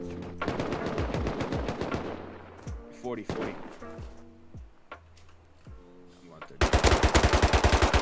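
Rapid automatic gunfire in the game Rust, loud bursts of shots with ringing tails, a pause with scattered single shots, then a fast sustained burst at the end, while someone talks over it.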